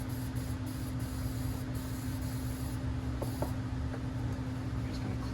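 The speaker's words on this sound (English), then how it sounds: "So just take that can, get in there, spray it good here." Aerosol can of battery terminal cleaner sprayed steadily onto car battery terminals, a continuous close hiss running through the whole stretch over a low engine-bay hum.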